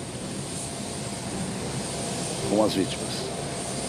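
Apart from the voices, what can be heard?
Hercules transport plane landing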